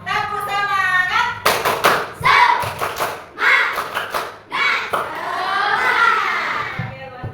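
Schoolchildren in an Indonesian elementary classroom perform a rhythmic spirit clap, patterned bursts of clapping alternating with children chanting together, close and lively.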